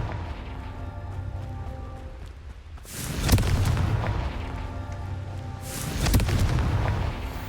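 Confringo fire-spell explosions go off twice in Hogwarts Legacy, each a sudden heavy boom with a rolling, crackling tail, spaced about three seconds apart over a low hum of game ambience.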